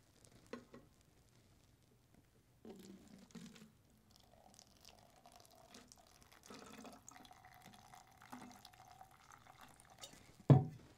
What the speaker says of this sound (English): I have taken water also here. So, I am just going to pour this inside.